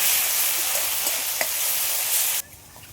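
Spice paste frying in a pan with parshe fish and ridge gourd gives a steady, close sizzle and hiss that runs evenly, then cuts off abruptly near the end.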